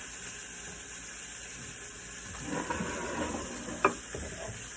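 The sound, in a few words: batter-soaked white bread frying in a pan for French toast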